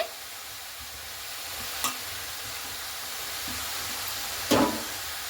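Cabbage and peas fry with spices in a pan, giving a continuous low sizzle while a utensil stirs, with two short scraping clatters standing out from the steady hiss.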